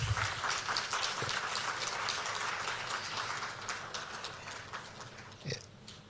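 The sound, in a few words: audience applause at swearing-in ceremony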